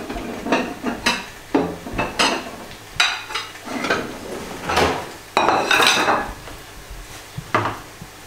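A small plate and utensils clatter and knock repeatedly in a kitchen as food is plated for serving, with a series of close, crisp ceramic taps and scrapes.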